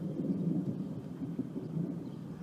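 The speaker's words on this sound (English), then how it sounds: "Sometimes a bolt of lightning can leap miles away from a storm, jolting earthlings with surprise." Thunder from a lightning bolt rolls as a deep, continuous rumble with low swells, heard alone without voices.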